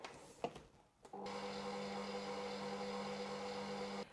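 An electric stand mixer runs on low while mixing coconut coloured with gel, starting after a few soft knocks and then holding a steady whirring motor hum at close range, with no talk.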